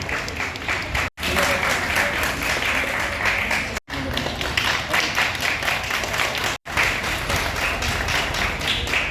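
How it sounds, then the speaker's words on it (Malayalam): Loud, dense applause from a school audience for a prize-winning student at a gift-giving ceremony, continuous and close, broken by three abrupt silent cuts. "ഒരു വലിയ കയ്യടി"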